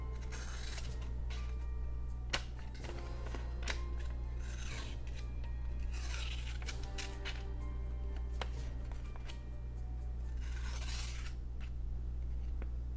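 A freshly sharpened knife slices through paper in a sharpness test, with repeated close scraping and rasping cuts in irregular bursts over a steady low background hum, with no voices.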